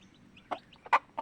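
Three short clucking calls from a labuyo rooster, the middle one loudest, spaced unevenly over a quiet background.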